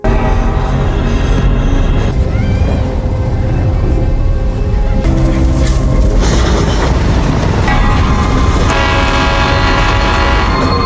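A loud train rumbles past close by with steady roaring and clanking, and a horn blares in several long blasts.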